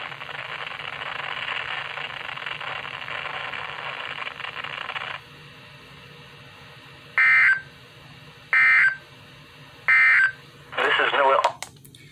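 NOAA weather radio weekly test with EAS alert signals: a long static-laden data burst, then a series of short, evenly spaced electronic tone bursts, with a voice heard over the radio.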